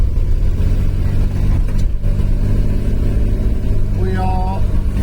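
A carburettor engine, newly cleaned and set four turns out on each screw, idles with a steady low rumble throughout, slightly uneven, with a brief whistle-like tone near the end.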